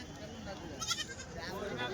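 Goats bleat among the bustle of a Bakrid goat and billy-goat market in Kadiri, with a wavering call rising over nearby people talking.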